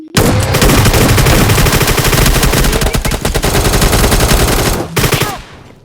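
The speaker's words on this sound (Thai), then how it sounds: "ผมยิงลูกซองมัน" Gunfire from PUBG Mobile, a shotgun battle: loud, dense bursts of rapid shots fill the scene almost continuously, then stop briefly before a final short volley.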